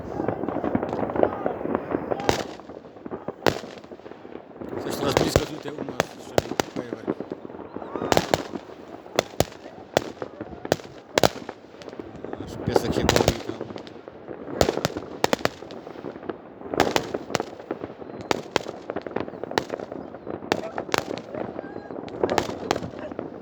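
New Year's fireworks pop and boom in scattered bursts, with occasional sharp cracks and some rumbling stretches, while a person talks briefly between explosions.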